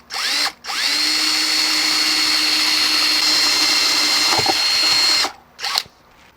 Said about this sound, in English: we're going to drill a hole down through here